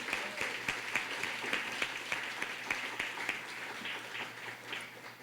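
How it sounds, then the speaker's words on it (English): A luncheon audience applauds the commissioners with steady, dense clapping that fills the whole stretch, fairly close and even, tapering slightly at the end with no talk over it. "So please give a warm round of applause to our commissioners"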